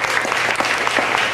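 Studio audience applauding on a Toronto daytime talk show, a brief burst of dense, even clapping with no talk over it.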